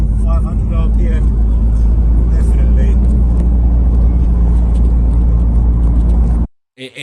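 Ford Focus RS Mk1 engine held at high revs, a loud, steady, close roar with a constant tone that cuts off abruptly near the end, leaving a brief quieter engine sound; a voice talks faintly over it.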